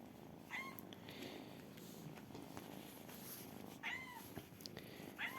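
A cat purrs steadily and close by, with a few short, higher chirping calls breaking through the low rumble.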